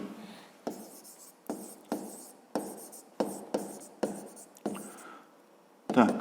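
A pen writing on paper, making close, distinct strokes in a steady series of about nine short scratching bursts with brief pauses between them, and no one talking.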